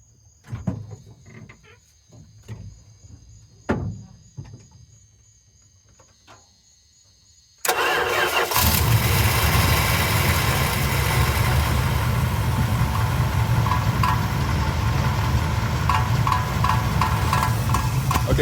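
A first-generation Dodge D150 pickup engine cranks and catches at about 7.5 seconds, then runs at a loud, steady idle with a rough rattle. Before that there are faint clicks and knocks in a quiet space.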